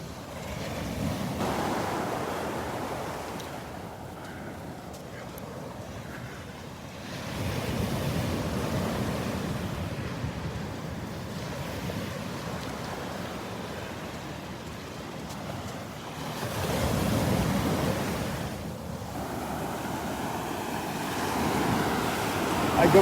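Waves break out on the sandbar at Delnor-Wiggins beach, a steady surf roar that swells and recedes in broad surges, mixed with wind buffeting the microphone.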